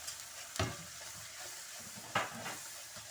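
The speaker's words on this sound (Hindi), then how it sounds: "मसाला अच्छी तरह भून के इसका कच्चापन दूर करती हूँ" Spice masala frying in a karahi pot with a soft constant sizzle, broken by two sharp scrapes of a spoon stirring, close and fairly quiet with no voices.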